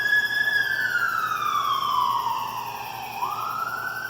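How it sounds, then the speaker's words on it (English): A police siren wails steadily, sweeping slowly downward in pitch and then rising again as the vehicle passes, loud and fairly near. "Sounds like a police car to pass by."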